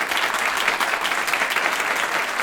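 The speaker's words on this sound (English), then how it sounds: "Let's give them a big round of applause." An audience at a conference panel applauds steadily, dense clapping filling the room at an even level throughout.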